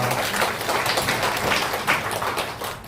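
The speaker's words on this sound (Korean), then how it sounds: "우리 하나님께 영광의 박수 좀 한번 칩시다." A church congregation claps together during a worship service, a dense, lively patter of hands that stays fairly loud and close for a few seconds, with no voices clearly standing out.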